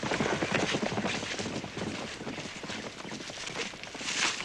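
Horses walk through a muddy creek bed in an outdoor western setting, hooves giving a soft, irregular clip-clop under wind and rustling noise.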